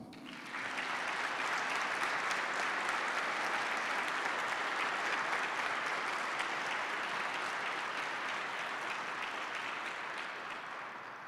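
A crowd at a Yale ROTC President's Review gives a long, even round of applause for cadets pledged to serve, a dense wash of many hands that swells in quickly, holds steady and fades slightly at the end.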